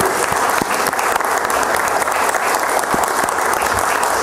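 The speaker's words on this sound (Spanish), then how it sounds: "Un aplauso para el señor Mendoza, por favor." Applause from the audience at a citizen security committee meeting, a steady, dense burst of clapping that fills the room for a few seconds without any voices over it.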